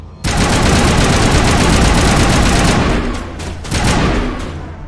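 Rapid burst fire from a sniper rifle in the video game Mass Effect, a loud, dense crackle of shots running almost continuously, dipping briefly before a final burst.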